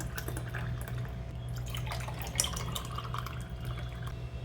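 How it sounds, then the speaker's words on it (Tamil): Chilled carrot kheer is poured into a tumbler, giving soft, close trickling and dripping liquid sounds over a low background hum. "கேரட் கீர் நான் சில் பண்ணியிருக்கேங்க. சில் பண்ணி எடுத்துருக்கிறேன். இப்போ இதில் சேர்த்துக்கிறேன் டம்ளரில்."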